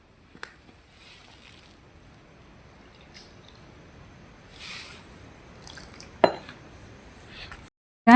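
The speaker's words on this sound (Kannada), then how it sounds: "ಸ್ವಲ್ಪ ನೀರು ಹಾಕ್ಕೊಂಡೆ ಕಲಿಸ್ಕೊಳ್ಳೋಣ." Flour being mixed with water in a bowl for a dal-filled sweet, soft wet squishing and dripping with a few clinks of utensils against the bowl, close and intermittent with quiet gaps.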